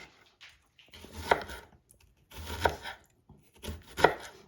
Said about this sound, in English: So we're chopping it finely.